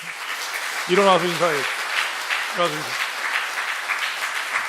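A church congregation claps to encourage and bless its youth-ministry teachers, a steady patter of many hands beneath a voice speaking loudly over it.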